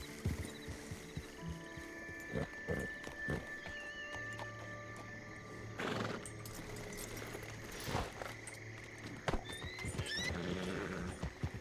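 A horse in a Wild West roleplay video game, with hooves clip-clopping and a neigh rising over steady ambient game sound, moderately close.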